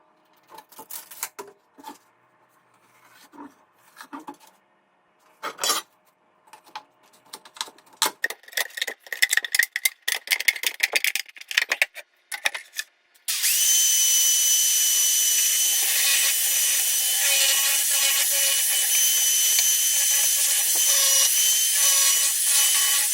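A 3-inch tube for a homemade TV antenna being sawn in half: irregular scraping and rasping strokes for about thirteen seconds, then a steady, loud, continuous high-pitched cutting whine that runs to the end, with no talking.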